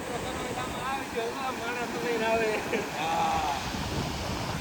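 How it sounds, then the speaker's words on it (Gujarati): River water from the opened gates of the Sukhbhadar dam rushes past in a steady, broad roar with a gusty, wind-buffeted edge, loud and continuous throughout. "અને કેટલું પાણી જાય છે જોવા"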